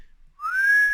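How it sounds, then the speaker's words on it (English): A person whistles a single short rising note with the lips, clear and close after a brief silence. "I can whistle with my lips."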